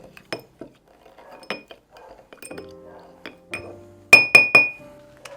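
Lime and cane sugar muddled in a glass for a caipirinha, scattered light taps and knocks followed by three sharp, ringing glass clinks close up near the end.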